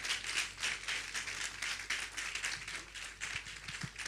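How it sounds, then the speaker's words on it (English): Audience at a public sickle cell day lecture claps in a steady, moderately faint patter of many hands that continues without pause, with no talk over it. "A wonderful round of applause for Professor Ibironke Akinshete."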